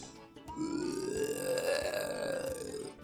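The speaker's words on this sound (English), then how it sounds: "That's a gnarly burp." Long, deep, gravelly burp from a villain soundboard in a SpongeBob SquarePants video game, a sustained rumbling belch rising slightly in pitch, loud and close, with no other sound.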